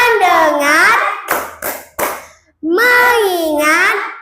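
Schoolchildren chant a phrase, clap three sharp times in rhythm, then chant again, with the claps bright and near in a small classroom between their sung voices.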